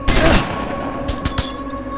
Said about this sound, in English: have him take a quick shot at the wrecking crew